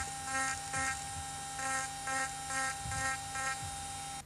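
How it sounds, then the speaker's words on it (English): A high-pitched power carving grinder buzzes in short repeated bursts while texturing feathers on a bird carving, each pulse lasting about a third of a second with brief gaps, close and moderately loud. "As we have been grinding the feather texture"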